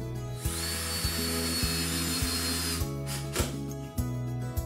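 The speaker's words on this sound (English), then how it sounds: "Line the brackets up with the holes and drill in the screws." A power drill whirs in steady bursts, driving screws through blind mounting brackets, pausing and restarting several times, close by with a constant background hum.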